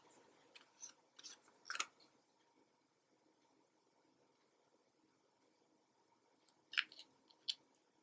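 Scissors snipping at fraying craft material, a few faint close cuts and crunchy snips, then a quiet pause before another short cluster of snips.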